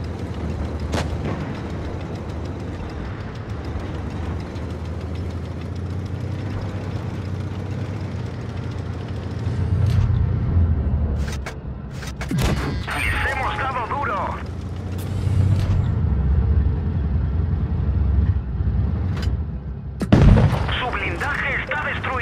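Heavy tank cannon blasts firing high-explosive shells in World of Tanks Blitz, with a Barkhan tank in desert gold operation, booming at intervals over a rumbling idling engine while someone talks throughout.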